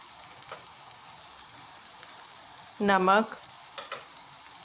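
Chicken with spices sizzles steadily as it is stirred and cooked in a pan for a Pakistani white malai handi, with a brief spoken word partway through.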